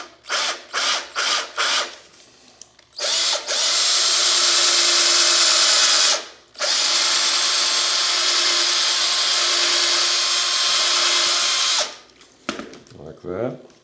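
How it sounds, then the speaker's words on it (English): A power drill bores a hole through a hand-carved wooden cowboy's horse head, opening with a few short bursts and then running in two long, steady whirring passes. The drill is loud and close, with a brief pause between the passes and no voices over it. "So we'll just drill that hole."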